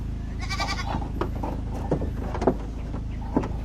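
A horned goat gives one clear, wavering bleat near the start. Softer farmyard noise and a few faint knocks follow, with no talking.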